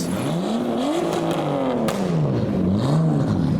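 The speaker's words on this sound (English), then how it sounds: "STs have started revving" Modified cars, including a Nissan Skyline R34, rev loudly and repeatedly at a car meet, the pitch rising and falling in waves, close by with a reverberant echo off concrete pillars.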